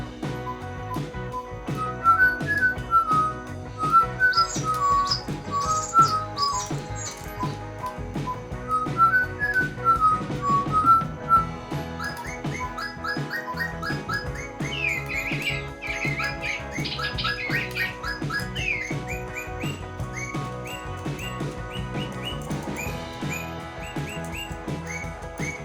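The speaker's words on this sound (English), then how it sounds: "So if you switch it on and put near your children, for example, it will tweet sometimes." An electronic toy bird tweets with bright, whistled chirps and trilling phrases, repeating in bursts over a continuous busy background of other toy bird calls.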